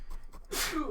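A single sharp sneeze bursts out after a moment of quiet breathing, loud and close, trailing off with a short exhale.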